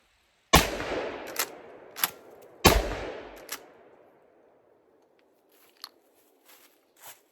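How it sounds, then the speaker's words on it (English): Two loud shotgun blasts of low brass shells about two seconds apart, each with a long decaying echo, followed by lighter clicks and clacks of the action being worked on a shotgun that is failing to eject. "we'll put a few more rounds through it and see if we can get that figured out"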